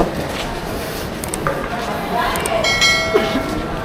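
On a busy station platform before boarding the Brahmaputra Express from Dhaka, metallic clinks and a ringing bell-like tone rise over a constant crowd murmur and nearby chatter, with rail clatter throughout.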